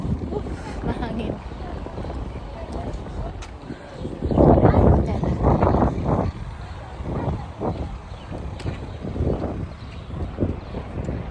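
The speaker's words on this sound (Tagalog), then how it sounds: "Mahangin." Gusty wind buffets the microphone outdoors, rumbling low and steady with a stronger surge midway, while a person talks intermittently over it.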